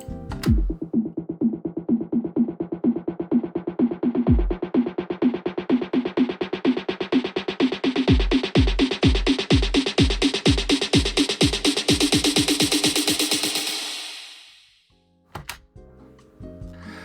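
An EDM buildup kick drum pattern: punchy low thumps that start spaced out and tighten step by step to rapid sixteenths under a rising tone, then drop into a brief silence before a final hit.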